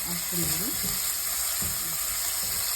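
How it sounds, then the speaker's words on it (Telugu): Onions and green chillies fry in a pan for chicken shorva, with a loud, steady sizzle running close and unbroken throughout, while a voice speaks faintly underneath. "మంచిగా ఫ్రై చేసుకోవాలి"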